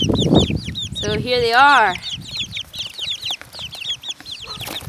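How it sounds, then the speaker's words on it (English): A bunch of silkie chicken chicks cheep in rapid, high-pitched peeps close by, with a louder adult cluck in the middle and a person speaking briefly at the start. "Got a bunch of silky chicks."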